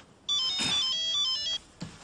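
A mobile phone rings with a bright melodic ringtone for about a second, then a short chirp follows after a brief pause, with no talking.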